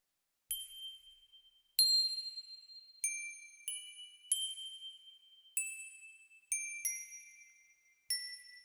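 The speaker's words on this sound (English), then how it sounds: "the last supportive element is again the toy bells" Toy bells chime bright, clean notes one by one in a slow melodic line, each ringing out and decaying before the next strike, forming the sparkling top layer of an orchestral woodwind ensemble arrangement.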